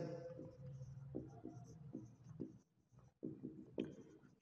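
Pen writing on paper while noting down accounting entries, a steady run of soft scratching strokes close by, with brief pauses and a low background hum.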